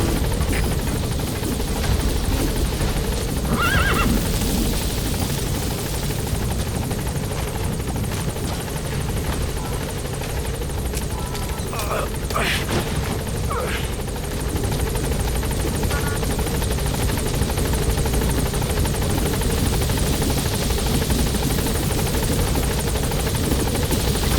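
A support helicopter arrives in Metal Gear Solid V, its rotor chop and turbine drone loud and constant throughout, with brief mechanical clanks partway through.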